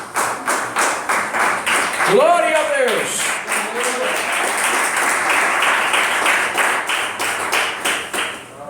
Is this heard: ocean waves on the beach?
no